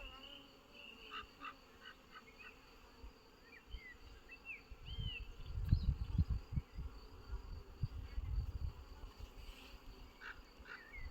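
Honey bees buzz around a mated queen bee being selected by a beekeeper, a faint, continuous hum with a low fluttering buzz that swells in the middle, close and steady, without talk.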